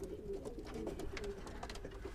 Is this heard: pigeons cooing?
yes